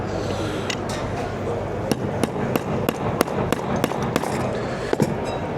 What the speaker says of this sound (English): I'm going to pound it in here